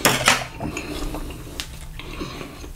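A plate and cutlery are cleared from a breakfast table after eggs and sausages, with sharp clinks and scrapes of metal on china, close and fairly quiet.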